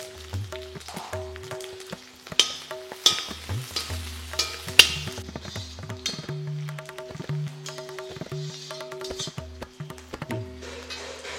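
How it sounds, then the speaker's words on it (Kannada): Onions and curry leaves fry in oil for avarekalu gojju, a steady sizzle with stirring scrapes and clatter, while a low musical hum runs underneath throughout. "ಈಗ ಈರುಳ್ಳಿ ಎಲ್ಲ ಚೆನ್ನಾಗಿ ಫ್ರೈ ಆಗಿದೆ"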